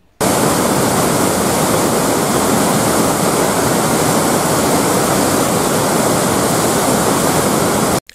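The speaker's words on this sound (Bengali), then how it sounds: "আগেরটা পাঞ্চেতের জল ছাড়ার দৃশ্য দেখছিলেন" Water released from the Panchet dam roars as one loud, unbroken rush of falling water, steady throughout with no voices.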